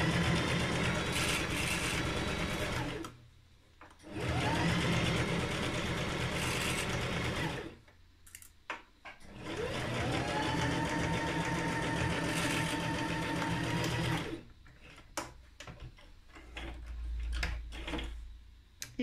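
A sewing machine stitches coat fabric about 1 cm from the edge in three long, loud bursts of rapid whirring. Brief pauses and light handling noises fall between the bursts.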